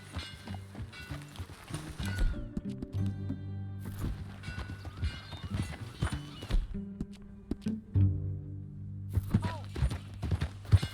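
Horses clip-clopping at a ride in the video game Red Dead Redemption 2, irregular hoof thuds close by with a brief whinny, the steps coming in bursts between quieter gaps, alongside faint in-game sounds.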